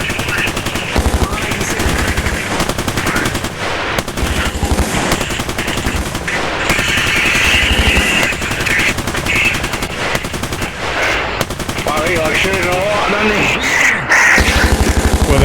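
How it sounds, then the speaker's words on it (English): Rapid gunfire from a shotgun in a VR video game, dense overlapping blasts that run almost without a break, loud and close, with voices talking over the shooting. "Oh, they have a shotgun."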